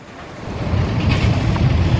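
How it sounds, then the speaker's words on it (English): Strong outdoor wind buffets the microphone on a gusty day where a Segway scooter is being ridden, a steady broadband roar that swells after the first moment and stays loud throughout with no one talking. "Oh, windy today"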